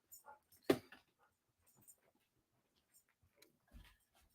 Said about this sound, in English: My dog's begging me to let her out.